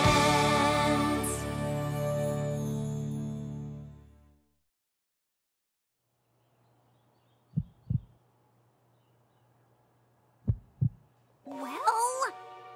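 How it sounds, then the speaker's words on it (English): Cartoon heartbeat from an animated My Little Pony: Friendship is Magic episode: two slow, soft lub-dub double thumps over a faint low hum, following a swell of music that fades to silence, with a voice starting at the end. "Well, I suppose his heartbeat could be a teensy, weensy, eensy bit slower than usual."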